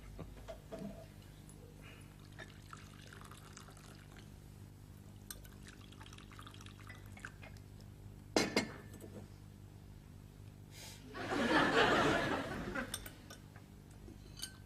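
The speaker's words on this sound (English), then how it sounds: "Pour me a cup of tea, darling, would you?" Tea is poured into a cup in a quiet room: a sharp clink of china midway, then a brief, close liquid splash lasting about a second, with faint clatter around it.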